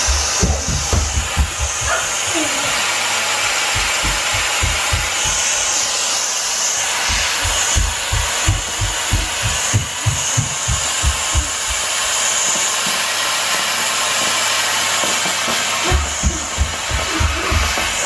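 Steam cleaner hissing steadily and loudly while cleaning a floor, a continuous broadband hiss running the whole time with faint rhythmic thumps beneath it.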